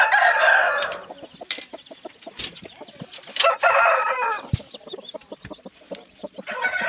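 Hens and a rooster in a coop clucking in short bursts, with loud squawks and a crow-like call standing out against a quieter stretch of scattered clucks and rustling, close by.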